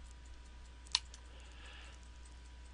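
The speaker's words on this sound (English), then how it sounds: "now I'm going to come down here and make a mouse click" One faint, sharp computer mouse click over a low steady hum in an otherwise quiet room.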